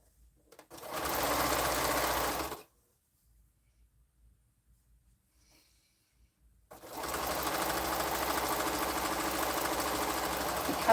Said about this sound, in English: So I'm going to go ahead and sew that on.